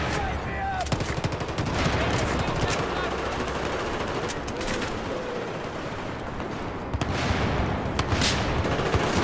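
Rapid automatic gunfire rattles through a video game in sustained loud bursts, with a few heavier booms mixed in and a voice talking underneath.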